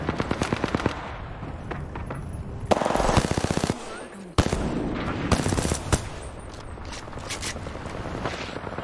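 Gunfire in the Apex Legends battle royale video game comes in rapid automatic bursts and fusillades, loud and close, with sharp impacts and pauses between volleys. A voice speaks briefly over the shooting.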